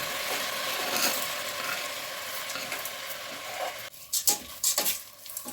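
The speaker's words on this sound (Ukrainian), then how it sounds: "Перемішую і смажу періодично, обов'язково треба перемішувати, щоб не пригоріла наша чечевиця" Lentils sizzle steadily in a hot pan while a utensil stirs and scrapes, with a few sharper clinks near the end.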